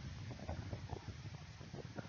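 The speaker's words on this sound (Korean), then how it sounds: "이번에는 선풍기로 바람을 만들어 보겠습니다." An electric fan blows air straight at an earbud microphone, producing a faint, fluttering low rumble of wind buffeting that pulses unevenly throughout, with no voices.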